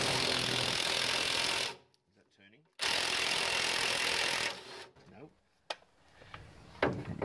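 An impact wrench removing nuts from the front suspension of a Ford ZK Fairlane, loud buzzing rattling bursts of hammering with pauses between them, close by and without talk.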